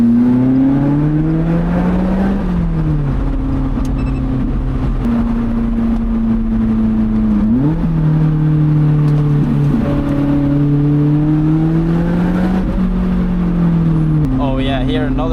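A car engine drones loudly and steadily through tight mountain-road corners, the pitch dropping under braking and trail braking, then climbing again as it accelerates out of each bend.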